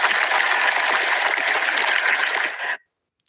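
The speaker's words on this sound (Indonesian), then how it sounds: "Tepuk tangan dulu." Applause from an audience at an Indonesian talk or panel event, a dense, loud burst of clapping that holds steady and then cuts off abruptly, leaving near silence.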